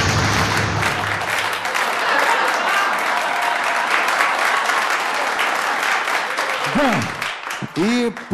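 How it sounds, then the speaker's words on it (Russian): Audience applause at a corporate KVN comedy festival, a dense, loud clapping crowd sustained throughout, easing toward the end, with a host's voice over it. "И прошу ваших аплодисментов красной команде."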